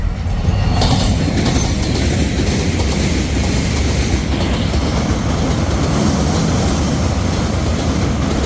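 A passing train roars loud and close in the evening, with continuous wheel rumble and rhythmic clatter of rail cars rolling by without a break.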